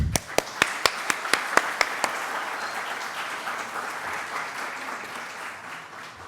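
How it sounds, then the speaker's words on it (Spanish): A university audience in Medellín applauds to welcome a guest speaker, opening with a handful of sharp, distinct claps that quickly blend into a steady, sustained wash of clapping from the crowd. "Recibámosla por favor con un fuerte aplauso"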